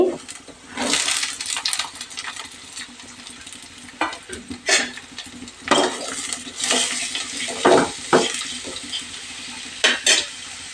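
Capsicum, about a quarter kilo, is added to a pan for a capsicum fry and stirred, giving a string of close metallic scrapes and clinks of a spoon against the pan over a faint sizzle.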